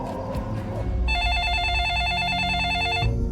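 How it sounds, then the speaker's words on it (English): A telephone ringing in a detective's quiet room at night, one sustained electronic trilling ring of about two seconds, clear and fairly close, with a low hum and faint voice around it. "And the phone rang"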